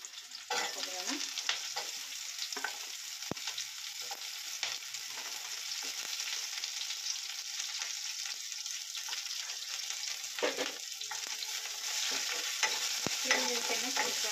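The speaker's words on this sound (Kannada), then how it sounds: "ಈರುಳ್ಳಿ ಚೆನ್ನಾಗಿ ಫ್ರೈ ಆಗಬೇಕು." Chopped onion and garlic frying in a pan, a dense steady sizzle broken by repeated spatula scrapes and stirs, close and sustained throughout.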